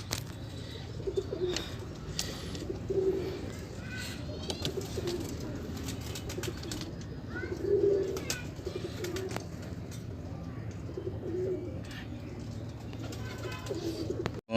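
Pigeons, a Jaunsira pair at a bird market, cooing several times at a moderate distance, low throaty calls recurring every few seconds over steady background noise.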